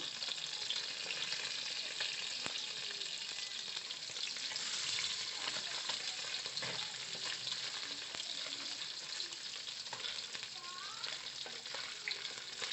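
Fish pieces frying in hot oil in a wok, a dense, steady crackling sizzle that runs unbroken and fairly loud throughout, with faint scattered clinks and no voices.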